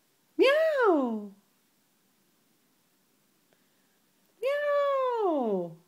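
Two drawn-out meows, loud and close, from a person imitating a cat, separated by a few seconds of near silence.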